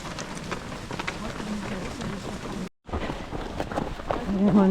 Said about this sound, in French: On part avec la pluie.